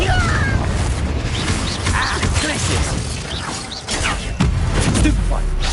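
A Confringo blasting spell explodes in Hogwarts Legacy combat, heard as dense, continuous crashing and clanking effects with repeated booming bursts layered over a busy game soundscape.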